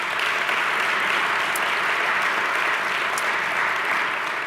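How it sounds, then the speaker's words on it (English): Steady applause fills a civic auditorium event honoring city officials, dense and sustained with no talk over it. "Please give them a round of applause."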